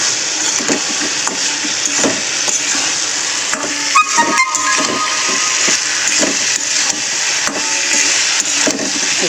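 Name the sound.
stirring fried okra into cooked spice mixture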